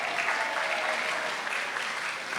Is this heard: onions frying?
no